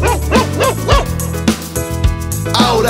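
Playful dog barks and yips from a children's counting song, repeating in quick bursts over bright backing music.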